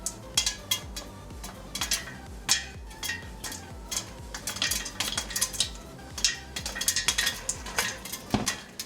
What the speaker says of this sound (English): I like to give a little stir once in a while so we won't burn the bottom